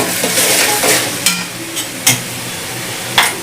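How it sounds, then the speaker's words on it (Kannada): Ginger garlic paste fries in a pan with a loud, dense sizzle, broken by a few sharp knocks and scrapes of a spoon against the pan. "ಶುಂಠಿ ಬೆಳ್ಳುಳ್ಳಿ ಪೇಸ್ಟ್ ಹಾಕಿ ಸ್ವಲ್ಪ ಇದು ರಾಸ್ ಮೇಲೆಲ್ಲ ಹೋಗೋವರೆಗೂ ಚೆನ್ನಾಗಿ ಫ್ರೈ ಮಾಡ್ಕೊಳ್ಳಿ."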